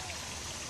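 Water flows steadily down a stepped channel on a pineapple farm, a continuous close rushing trickle with no voices.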